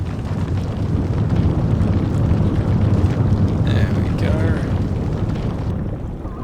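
A big rumbling blast from the Indiana Jones and the Infernal Machine video game, a loud sustained roar that fills the whole stretch and eases off at the end.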